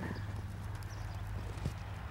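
A horse trots during a riding exercise, with steady rhythmic hoof clip-clops over a constant low rumbling background.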